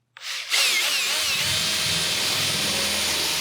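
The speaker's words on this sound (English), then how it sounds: "We're going to start off with drilling a hole first to start our air saw." A power drill bores a starter hole in a van's metal body panel, spinning up sharply and then whining steadily and loudly at close range with no talk.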